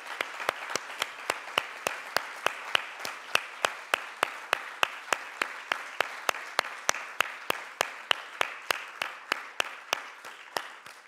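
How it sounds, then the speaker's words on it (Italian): Audience at a literary evening with classical musicians claps in a steady, evenly spaced rhythm, sharp crisp claps repeating for about eleven seconds at a moderate level with no voices. "per i quali vi chiedo un calorosissimo applauso"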